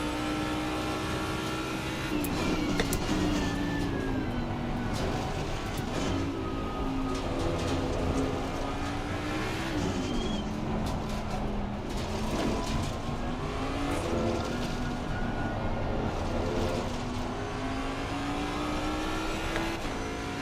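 A Mustang race car engine in a racing video game drones steadily through long gear pulls, its pitch climbing and dipping with shifts, loud and continuous with faint tire and track noise beneath.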